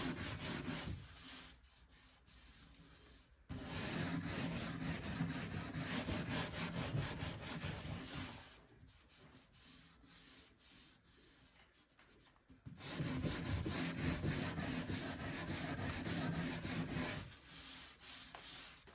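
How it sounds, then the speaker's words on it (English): Sandpaper rubs along a trimmed edge on a mid-century modern painted wooden dresser being restored, in two long runs of quiet, close, rhythmic back-and-forth scratching with short pauses between them. "Then I'll use some sandpaper to refine that edge."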